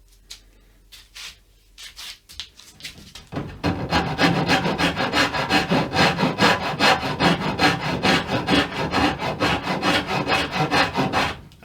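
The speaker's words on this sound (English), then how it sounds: "let's just hit it with a round rasp" A round rasp files the wood of a guitar neck joint in steady, loud back-and-forth strokes, starting after a few quieter scrapes and continuing close up without talk.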